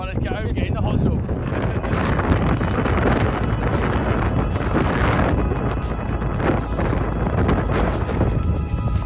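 Strong high wind on Kinder Scout in the Peak District buffets the microphone in a constant, loud roaring rumble, with people talking faintly beneath it while packing up.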